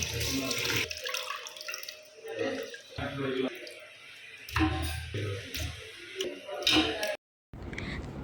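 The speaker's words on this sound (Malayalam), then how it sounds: "ഇവിടെ ഇപ്പോൾ ചിക്കൻ കഴുകുവാണ്." Chicken pieces being washed under a running kitchen tap, water splashing and gushing in uneven bursts with handling noises, close and moderately loud, with talk in the background.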